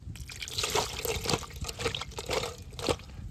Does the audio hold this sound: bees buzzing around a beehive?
no